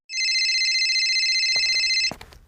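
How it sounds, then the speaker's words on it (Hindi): A telephone rings with a continuous electronic trill for about two seconds before cutting off, followed by a few faint clicks and handling noises. "रुको, तुम फोन नहीं उठाओगी?"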